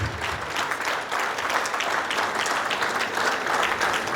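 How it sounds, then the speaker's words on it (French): A crowd at a 70th birthday party claps in sustained, dense applause that stays loud and steady throughout. "Est-ce qu'on peut applaudir pour ce cursus,"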